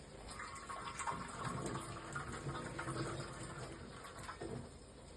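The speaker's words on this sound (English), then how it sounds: "Gonna add some water to the rice." Water is poured into rice cooking in a pot for fried and jollof rice, a continuous splashing, gurgling pour that stays steady and moderately quiet for about five seconds.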